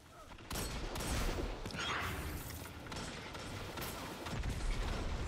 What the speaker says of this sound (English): They've thrown 16 grenades now.